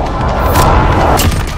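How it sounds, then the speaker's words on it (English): A loud, sustained explosive rumble from an airstrike in the Call of Duty: Modern Warfare video game, a continuous heavy boom with crackling debris filling the whole moment. "I need close air support on this target."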